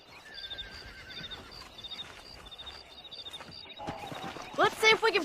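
In Red Dead Redemption 2, a horse neighs loudly near the end, over a bed of light hoof clip-clops and ambient game sounds with a steady high tonal hum.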